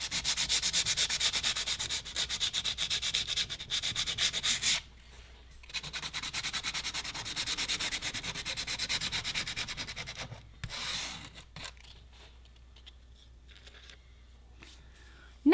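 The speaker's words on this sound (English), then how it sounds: "First, we will roughen the edges with coarse sandpaper." Coarse sandpaper roughening the edges of polypropylene, a steady close scratchy rubbing in long strokes, with a short pause before more sanding and a faint trailing rub at the end.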